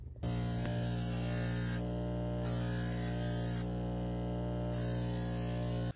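Ryobi buffer spinning an 800-grit sandpaper spider wheel, a steady motor drone with a buzzing edge that runs throughout and swells in brief bursts as the wheel meets the work.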